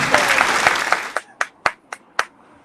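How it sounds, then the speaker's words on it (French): A small group's applause for a guest on a French-language show, dense clapping that thins out into a few separate, spaced hand claps close by. "j'aimerais ça que tous ensemble, s'il vous plaît, qu'on applaudisse Daniel Beaulieu"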